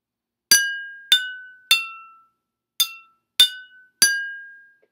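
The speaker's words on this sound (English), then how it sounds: "Glass of water." A glass of water used as a homemade musical instrument is struck six times, each a bright ringing clink with a clear sustained tone, spaced irregularly and heard alone in a quiet room.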